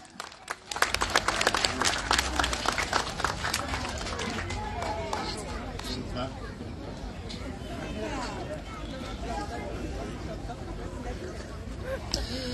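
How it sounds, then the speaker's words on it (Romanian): A crowd applauding at a Romanian community gathering with the mayor: a loud burst of clapping that peaks early, then thins and fades while chatter and voices continue underneath. "Haideți să-l aplaudăm."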